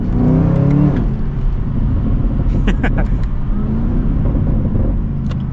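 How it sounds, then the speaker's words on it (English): A powerful Chevrolet Camaro ZL1 V8 engine rumbles and revs, deep and loud, with a couple of sharper throttle blips partway through. "to cap things off quickly with the Camaro, it sounds great"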